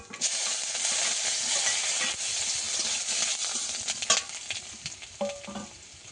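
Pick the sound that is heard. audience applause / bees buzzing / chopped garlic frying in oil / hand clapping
chopped garlic frying in oil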